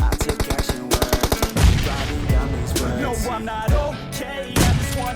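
Rapid automatic gunfire from the mobile battle royale game PUBG Mobile, loud and close, with dense bursts of shots at first giving way to scattered bangs and continuous game action.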